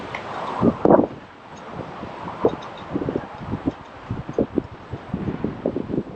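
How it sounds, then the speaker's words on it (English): Steady wind buffets the microphone outdoors on a chilly day with low rumbling gusts, joined by scattered rustling and thumps, and no one speaks. "So yeah, windy, chilly day."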